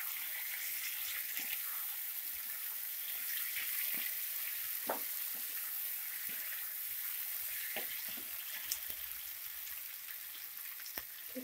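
Pepper chicken fries in a pan with a steady, close sizzle and occasional sharp pops and stirring clicks, no voices.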